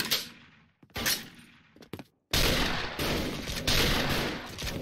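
MSG-90 DMR sniper rifle in the shooter game SF, fired while jumping: several sharp, close cracks separated by gaps, followed by a louder, dense burst of firing.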